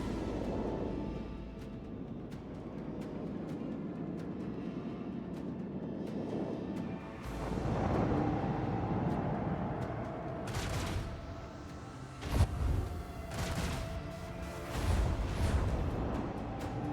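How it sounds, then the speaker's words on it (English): Torpedo explosions and space combat in the Warhammer 40,000: Rogue Trader video game, with steady low rumbling and several sharp bursts and booms in the second half, loud and without speech. "Oh, my torpedoes blow up?"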